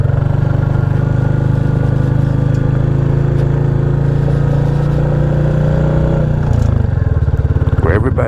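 A modified 350 motorcycle running while riding, a loud steady engine drone close by that shifts pitch near the end as the throttle changes, with someone speaking over it.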